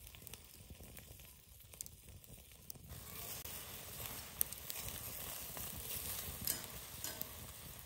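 Food cooking on a small grate over a campfire pit in the Ouachita National Forest, a steady soft sizzle and crackle that grows denser and louder partway through, with occasional pops and no talking.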